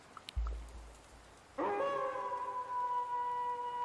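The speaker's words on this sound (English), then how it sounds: "The keening turns into a howl of joy." A wolf-like howl from a werewolf fantasy game, starting with a short thump and then rising into a long, sustained, layered tonal howl that stays loud to the end.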